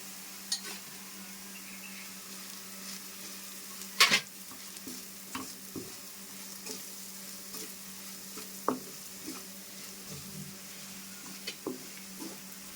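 Bitter gourd pieces fry with crushed garlic and chilli powder in a pan, a quiet steady sizzle broken by scattered spatula stirs and clinks, one sharper scrape near the start.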